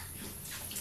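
Shower water runs steadily as a broad, even hiss of spray, close and continuous for the short stretch without pause.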